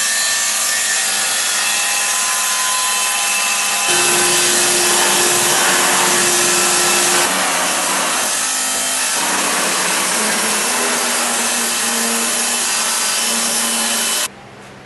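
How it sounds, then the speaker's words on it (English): A table saw rips a wooden column held in a sled, a loud steady whine with a grinding cut running almost fifteen seconds before abruptly dropping away at the end. "We've run our column in the sled through the table saw"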